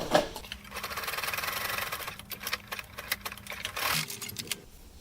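A sewing machine stitches a fabric face mask in a rapid, rattling chatter up close. Bursts rise and dip as the stitching speeds and slows, with a short pause near the end, and no talking.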